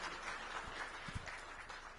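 Faint, distant applause from an audience at an administrative discussion event in Kanker, a soft continuous wash of clapping hands that holds steady throughout.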